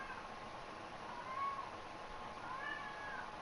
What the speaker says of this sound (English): There's my cat once again to cry at me.